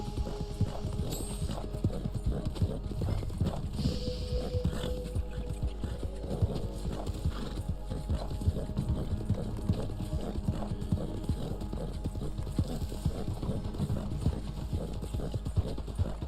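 Horse hooves clip-clopping in the video game Red Dead Online, a steady unbroken rhythm of hoofbeats that carries on through the whole stretch at an even, moderate loudness.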